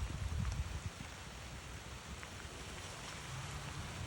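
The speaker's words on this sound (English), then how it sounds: "This is just a light rain right now." Light rain falls outdoors as a faint, steady hiss with soft scattered patter, continuous and without voices.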